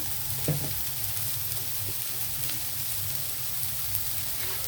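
Bitter gourd pieces fry in a pan with turmeric and salt, giving a steady close sizzle with a few brief stirring clicks and spatters throughout.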